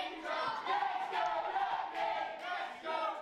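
A wrestling match crowd cheering and chanting in rising and falling waves, a dense roar of many voices heard from within the arena.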